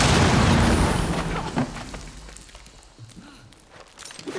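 A loud explosion in the tactical shooter game Rainbow Six bursts at the start, its broad roar decaying over a few seconds into scattered footsteps, small pops and rumbling game noise.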